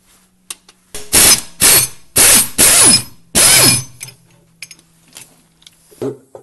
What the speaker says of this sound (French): moi je la fais à la clé au choc